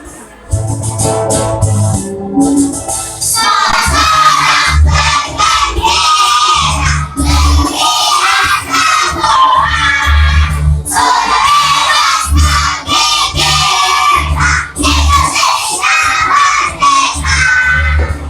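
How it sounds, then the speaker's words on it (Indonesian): Schoolchildren sing the Indonesian national song Sorak-Sorak Bergembira together, loud and continuous, a crowd of young voices in unison filling the classroom with a brief quieter start. "kita juga menyanyikan salah satu lagu nasional, yaitu lagu Sorak-Sorak Bergembira"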